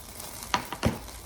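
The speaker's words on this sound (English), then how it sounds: "All right, we have a sizzle here." Bacon frying in a pan with overflowing grease, a brief soft sizzle broken by two quick pops or crackles, fairly close and without talk.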